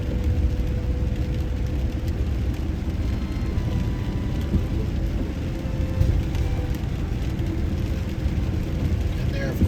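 Steady rain drumming on a car while driving through a state park in Bedford, Pennsylvania, mixed with a continuous low road and engine rumble, constant and even throughout with no talking.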